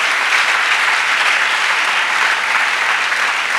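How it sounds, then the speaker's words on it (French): A congregation at a revival church service claps for Jesus, producing a thick, unbroken wall of applause that holds steady and loud throughout. "Clap for Jesus."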